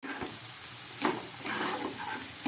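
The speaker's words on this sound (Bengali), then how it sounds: "সমস্ত সবজিগুলোকে আবার আমি গ্যাস কম করে ভালো করে ভেজে নিচ্ছি।" Peas and capsicum fry with mixed vegetables over a low gas flame, a quiet continuous sizzle broken by a few soft stirring scrapes, no talking.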